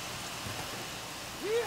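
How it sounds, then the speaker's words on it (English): Steady hiss of New Orleans rain falls throughout, with a brief voice rising at the very end. "New Orleans rain."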